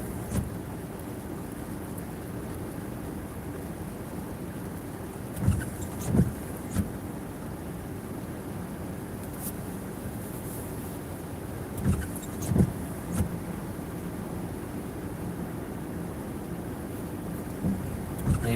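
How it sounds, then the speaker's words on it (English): A car engine idles while waiting in line for an emissions inspection, a steady low rumble with a few soft knocks and thumps and no talking. "The engine's still not shutting up."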